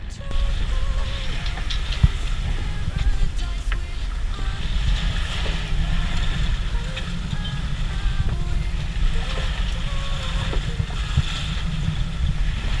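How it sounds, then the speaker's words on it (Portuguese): A passing motorboat engine drones steadily, joined by water splashing and wind noise, with a constant rumble throughout, heard from a sailboat crossing from Paraty to Ilha Grande. "Lá vai uma lancha toda"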